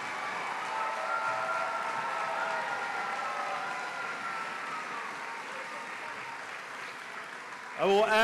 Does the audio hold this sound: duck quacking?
no